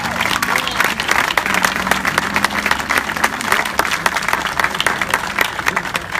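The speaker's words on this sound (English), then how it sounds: "Please give another round of applause for the Honorable Willie L." An audience claps at a California swearing-in ceremony, loud close-up applause with distinct individual hand claps over a crowd wash, and a voice briefly audible underneath.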